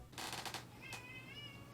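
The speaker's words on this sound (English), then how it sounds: "Can you hear my cat?" A house cat meows indoors, a short, fairly faint cry heard near a closed door, with a brief noise burst just before it.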